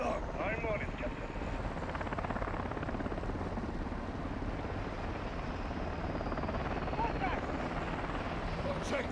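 Steady helicopter rotor and engine roar from Call of Duty Modern Warfare 2 gameplay, loud and continuous throughout, with radio chatter and voices talking over it.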